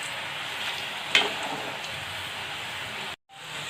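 Potato French fries frying in hot oil give a steady, close crackling sizzle that fills the whole stretch, with a brief sharper burst early on and a short silent gap near the end.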